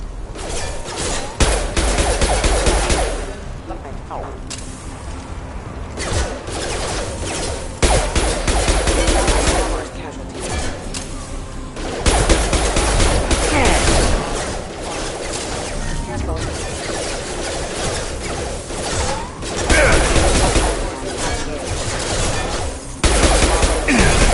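Security mechs firing in Mass Effect 1 Legendary Edition: bursts of energy-weapon gunfire and impacts repeat across the clip amid combat noise, with brief stretches of relative calm between volleys and voices talking at points.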